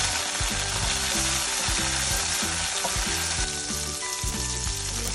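Squid fries with turmeric in a pan, a loud continuous sizzle with stirring close by, over background music and without speech.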